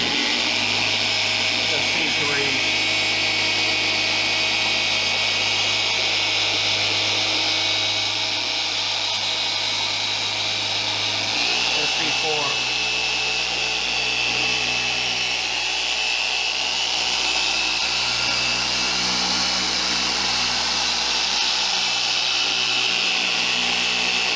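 A car paint polisher with brand new pads whirs continuously on a black Tesla's thin clear coat, its steady motor tone dipping in pitch as the pad loads against the paint, with a voice talking over it.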